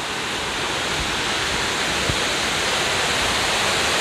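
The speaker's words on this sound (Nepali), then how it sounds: "यो चाहिँ खोला हो, यसलाई पच्याङ खोला भन्छ" The Pachyang river rushes loudly in a constant broadband roar of fast-flowing water, close and unbroken, with a few faint thumps beneath.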